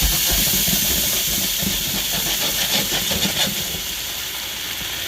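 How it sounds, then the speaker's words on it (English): A loud, continuous hissing sizzle from wine hitting a hot pan to deglaze it, steady throughout and easing slightly toward the end. "And you can hear the sizzle."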